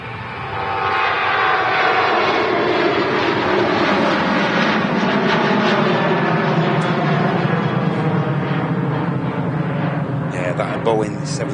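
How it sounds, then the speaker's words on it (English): KLM Boeing 737-900 jet on its takeoff roll at Manchester Airport, a loud sustained engine roar that swells in after a second and holds steady; a voice is heard over the noise. "KLM's on the roll for the return flight to Schiphol."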